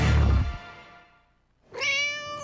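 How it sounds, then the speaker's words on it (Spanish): Two cat meows in a radio advertisement for auto assistance: a loud, drawn-out first cry fading away, a brief pause, then a second clear, harmonic meow, close and alone with no talk. "Así suena el gato"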